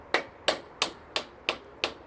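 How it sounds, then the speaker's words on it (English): A soft face hammer taps a socket onto an engine gearbox coupling, six evenly spaced, moderately loud knocks in a steady rhythm with nothing else heard. "I like to use a soft face hammer for this, and tap it on."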